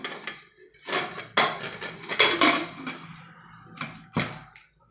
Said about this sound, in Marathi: आता आपण झाकण लावून घेऊया कुकरला